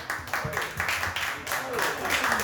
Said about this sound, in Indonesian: Kalau begitu tepuk tangan dong